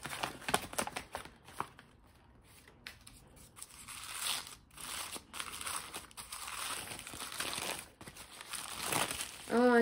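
Packing paper crinkles and rustles as a borosilicate glass kettle is unwrapped: close, irregular crackles and crunches in bursts, with quieter pauses between handfuls.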